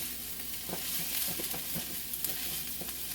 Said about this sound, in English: So we just kind of stir and incorporate